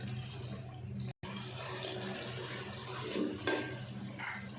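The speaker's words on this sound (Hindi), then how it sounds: "मसाले को अच्छे से फ्राई कर लेते हैं।" Ground spices and coriander powder frying in a pan for masala bhindi, a steady close sizzle with faint stirring scrapes, a short gap near the start and a brief clatter late on.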